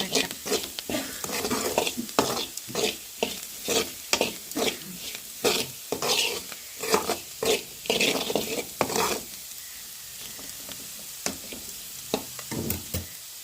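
Beetroot pieces are stirred and fried in a pan, with rhythmic spatula scrapes over a constant sizzle that thins out partway before a few final strokes, close up and without speech.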